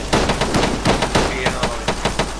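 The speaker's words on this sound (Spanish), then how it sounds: "¿De dónde vienen esos disparos?" Machine gun fire in the video game Arma 3, rapid bursts of sharp repeated shots in an uneven rhythm, loud and close, with no speech over them.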